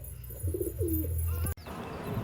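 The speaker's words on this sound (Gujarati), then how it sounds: "આ બધા આપણા કબૂતર છે" Domestic pigeons kept in a home loft give a soft, low coo close by, one brief rolling call over a steady background murmur.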